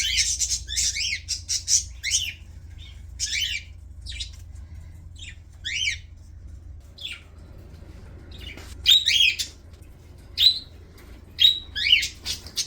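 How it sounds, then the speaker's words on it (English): Nearby birds squawk and chirp in busy bursts, with shrill, repeated calls coming in clusters and short pauses over a low background hum. "The birds are going crazy."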